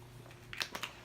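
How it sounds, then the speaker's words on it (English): A few quick spritzes of Urban Decay De-Slicked setting spray onto a face, heard as two or three short airy hisses close to the mic in the second half, with a quiet room before them. "I'm going to be taking the Urban Decay De-Slicked, and I'm just going to spray this a couple of times on my face"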